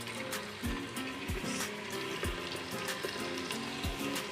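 Soft kebabs frying in hot oil in a clay pot, a steady close sizzle with bubbling and occasional low clunks from the pot, no talk.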